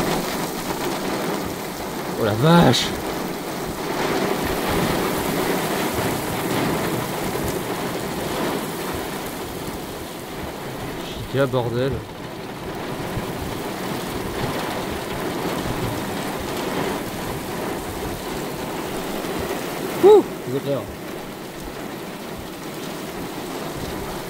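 Heavy rain and hail pour down in a thunderstorm over a valley, a dense constant roar with occasional rumbles, while a person exclaims in French over it.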